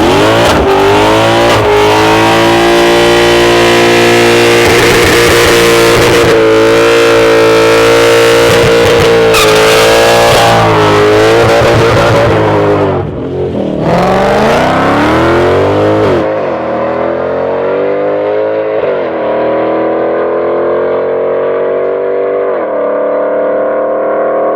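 A front-wheel-drive K-series drag car makes a quarter-mile pass: a loud, close engine screams hard through rising gears with quick shifts, then fades as it pulls away into the distance.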